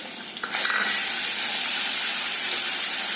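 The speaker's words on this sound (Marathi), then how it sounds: "तुपामध्ये थोडंसं भाजून घ्यायचं" Mango pieces roasting in ghee for mango shira make a steady hiss that rises after a short, quieter start, then stays bright and continuous, close up, with nobody talking.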